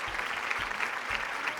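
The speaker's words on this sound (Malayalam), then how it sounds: "നല്ല കൈയടി." A studio audience on a Malayalam TV game show applauds in a steady, moderately soft wash of clapping, with no one speaking.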